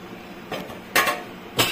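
A lid is set onto a pot of mutton curry in a home kitchen, three short metallic clanks against quiet background, the last two louder and close.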